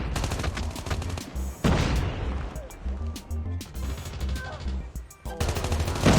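Rapid automatic gunfire and heavy blasts from a grenade launcher in the Call of Duty Mobile video game, loud bursts of shots crackling in quick volleys with brief pauses, close and intense throughout.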